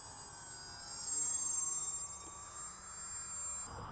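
A radio-controlled model aeroplane engine whines as the plane makes a low pass on a windy day, its pitch shifting and volume swelling briefly as it goes by, then easing off.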